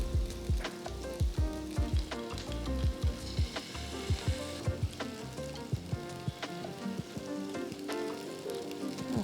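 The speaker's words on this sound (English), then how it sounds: "some ghee on all sides and grill them to perfection" Paneer cubes and vegetables grill in ghee in a pan, giving a steady close sizzle with frequent soft pops and crackles all the way through. Nobody speaks.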